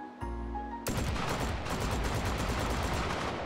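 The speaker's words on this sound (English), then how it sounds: "let's fire off a few shots" Rapid gunfire from a drum-magazine gun in the VR game Hot Dogs, Horseshoes & Hand Grenades, a short mechanical bolt sound followed by a dense, continuous burst of automatic shots.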